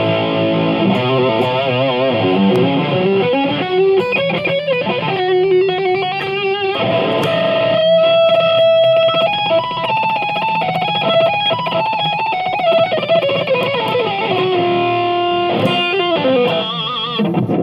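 Electric guitar played through a Line 6 Amplifi Bluetooth amp with effects and a little reverb, sustained chords and bending lead notes with a processed, slightly distorted tone, loud and continuous with no talking.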